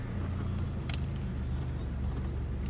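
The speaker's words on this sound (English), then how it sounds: "I'm cruising through the pasture right now with my car." A $1,000 old car with 220,000 miles drives across a bumpy pasture, giving a steady low engine rumble and road noise with a few brief rattles and clunks.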